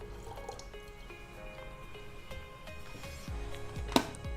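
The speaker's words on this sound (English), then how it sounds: "I'm going to put in 1 liter of water" Water trickles and drips into an Ovente electric glass kettle, a soft, quiet splashing fill with light clinks, ending in a brief sharp knock.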